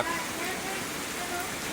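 Steady rain falls on a rainy day in Thailand, a continuous broadband hiss of drops on surfaces, fairly close and even throughout, with faint voices in the background.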